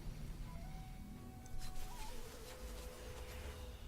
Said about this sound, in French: Et toi, bah, tu vas lui envoyer un peu des moustiques.